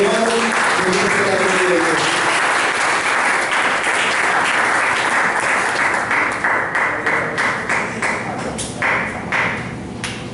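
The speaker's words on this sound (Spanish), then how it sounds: "Denle un fuerte aplauso al Señor, hermanos" Pentecostal church congregation giving a loud round of applause, dense clapping at first that thins into scattered individual claps with a few voices in the hall.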